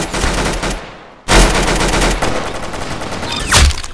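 Rapid bursts of gunfire at a shooting session crack out loud and close, with a brief pause before a second sustained volley of fast repeated shots.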